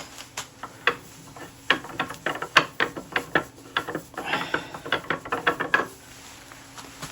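A vacuum chuck is unlocked and removed from a wood lathe with a rapid series of close, sharp mechanical clicks and ratcheting ticks, clustered irregularly over several seconds.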